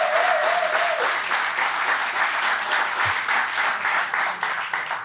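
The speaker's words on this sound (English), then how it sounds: "Let's give another round of applause" An evening storytelling audience breaks into sustained applause, dense and even clapping from a room full of listeners that holds steady throughout with no talk over it.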